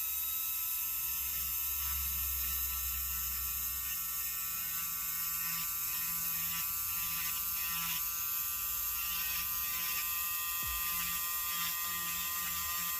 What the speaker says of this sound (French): moi j'utilise une drille et je vais utiliser un petit embout conique comme ceci pour aller faire le contour de ma cuticule